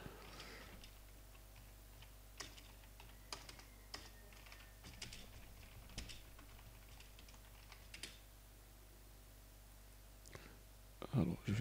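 Fingers tap on a computer keyboard in light, irregular clicks, close by and fairly quiet, while someone speaks over the keystrokes.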